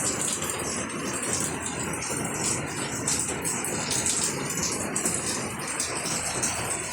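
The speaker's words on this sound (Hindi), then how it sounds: "सवेरे से ही भरपूर बारिश हो रही है।" Heavy morning monsoon rain in Delhi, a steady dense hiss of downpour with no pauses, like water pouring over surfaces, continuous and fairly loud with no voices.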